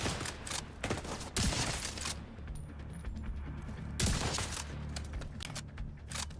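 Heavy machine gunner enemies in a video game, helmeted, fire long sustained bursts of rapid gunfire with several louder surges, steady and fairly close, with no talking.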